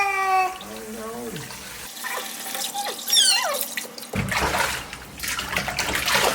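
Water running and splashing as a cat named Nanny is bathed, with a whining cat-like cry early on, then sloshing and a burst of louder rushing water near the end, close and continuous.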